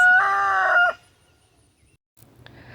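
A rooster crows loudly and close for about a second, then goes quiet, followed by a couple of soft clucks from chickens near the end.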